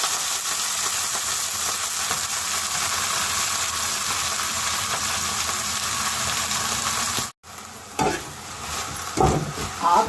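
Leaves fry in hot oil while being stirred, giving a dense, steady sizzle with scraping strokes. It breaks off abruptly near the end, then quieter clatter follows.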